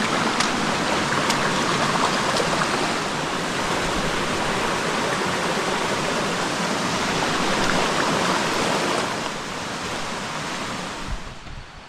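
A creek crossing a hiking trail between Smokemont and Lakeview Drive rushes steadily and loudly close by, a constant broadband wash of flowing water with no speech.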